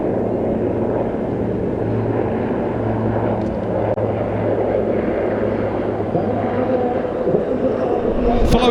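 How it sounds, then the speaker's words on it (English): AH-1Z Viper and UH-1Y Venom helicopters fly past at the NATO Days air show, a steady low rotor and engine rumble holding throughout at moderate distance. "AH-1Z Viper and UH-1Y Venom. All of them from the 22nd Helicopter Base"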